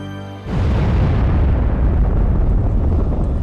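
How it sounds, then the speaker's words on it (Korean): A massive undersea volcanic eruption near Tonga bursts in with a sudden loud, broadband roar after a brief quieter lead-in, then sustains as a continuous rumbling blast without any speech. "1월 15일 심해 화산의 폭발이"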